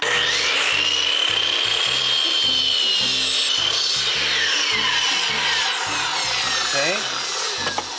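A saw cuts through an SPC stone-composite flooring plank during a DIY floor installation with steady, rhythmic back-and-forth rasping strokes, loud and close throughout.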